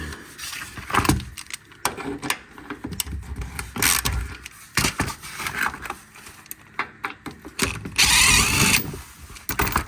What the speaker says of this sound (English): I just have a deep socket, and we'll go ahead and get all these off there